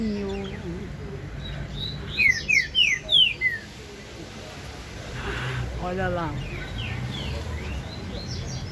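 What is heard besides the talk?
green-winged saltator singing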